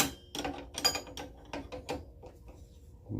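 A ratchet clicks in short irregular bursts while a center bolt is backed out on the vacuum pump of a 1994-1997 Ford F350 7.3 diesel, close and fairly quiet, with pauses between strokes.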